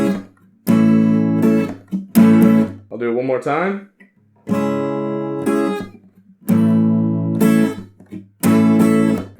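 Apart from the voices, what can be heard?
guitar strumming pattern with palm mute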